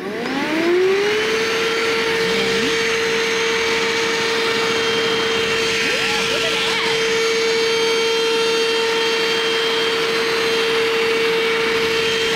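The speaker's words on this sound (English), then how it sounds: "Now to turn it on, you push and hold the power button." A cordless vacuum cleaner spins up and runs with a steady high whine and rushing air, loud and close, some scraping as it moves over a surface picking up dog hair.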